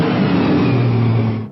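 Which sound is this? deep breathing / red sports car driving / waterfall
red sports car driving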